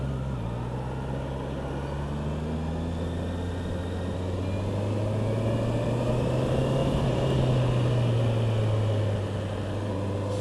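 A 2024 Honda CBR650R with E-Clutch is ridden in second gear, its engine giving a steady droning hum that rises and falls slightly in pitch under continuous wind rush, heard from the rider's position without talking.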